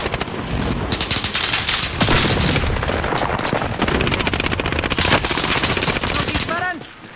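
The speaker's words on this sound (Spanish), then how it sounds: "¡Nos disparan!" Enemy gunfire in a video game shooter, loud, dense automatic bursts rattling nearly nonstop, with a few heavier booms, fading at the end as a short rising tone sounds.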